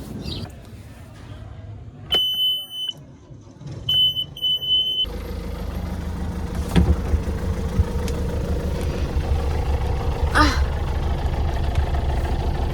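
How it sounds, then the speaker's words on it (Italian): A few sharp electronic beeps, then a boat engine turns over and settles into a steady low running rumble, with voices speaking over it. "termico e accendi il motore"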